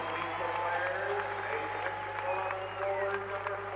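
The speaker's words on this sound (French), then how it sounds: "standing ovation pour la Dream Team" Standing ovation from a packed basketball arena crowd at the Coliseum in Portland, applauding the 1992 USA Dream Team during a pre-Olympic game against Panama; dense, steady clapping and crowd roar fill the whole stretch, with a commentator talking over it.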